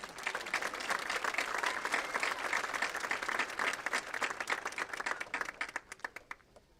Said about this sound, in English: well, we clap for that.